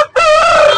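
A rooster at a village market in Ananthapuram lets out a single loud, close crow that is brief and sustained, with no other sounds around it.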